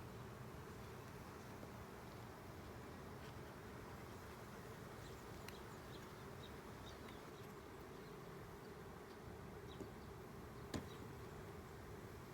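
Honeybees at an open hive during inspection, with a super being smoked, give a steady low buzzing hum throughout, faint and continuous, with a few brief clicks of equipment and no talking.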